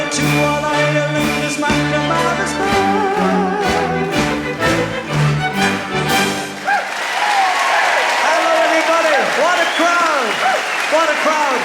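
A live concert crowd applauds loudly and continuously, with the tail of a band playing Irish folk music at first, then a dense wash of clapping and cheering.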